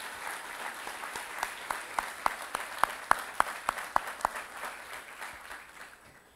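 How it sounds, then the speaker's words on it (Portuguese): Sparse, moderately quiet clapping from a church congregation, individual sharp claps standing out in an irregular rhythm before fading away. "Podem dar um aplauso a Jesus Cristo?"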